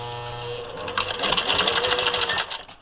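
A Singer Model 15-91 sewing machine stitching through two layers of leather, its motor whirring up into a steady, fast rapid-fire needle clatter for about two seconds before slowing off, close and loud with no talk.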